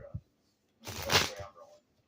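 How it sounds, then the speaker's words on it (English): A deck of tarot cards is shuffled in one quick riffling burst lasting under a second, set between short quiet gaps and a few faint taps. "Oh, I can't even shuffle these cards."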